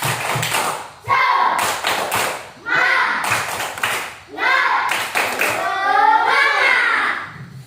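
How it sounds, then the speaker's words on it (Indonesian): Children perform the tepuk semangat clapping chant in a classroom lesson: bursts of rhythmic claps and taps, loud and near, mixed with voices calling out the chant. "maka kita tepuk semangat."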